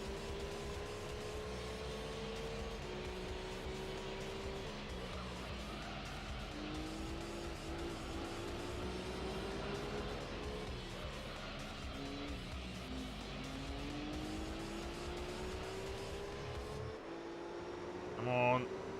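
Race cars in Gran Turismo 3 roar steadily with rising and falling engine pitch and repeated tire squeal, close and loud, until the noise cuts off abruptly near the end.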